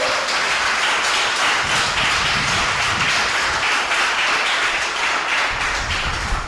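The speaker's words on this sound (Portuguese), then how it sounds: "Aplaude o Senhor." A church congregation at a Portuguese-language service applauding steadily, a dense, continuous wash of clapping at close range with no talk.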